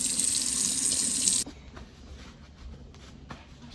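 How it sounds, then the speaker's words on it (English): A tap runs steadily while hands are washed, a close hiss of water that stops abruptly after about a second and a half, followed by faint handling noises in a quiet room. "let's get started and wash our hands"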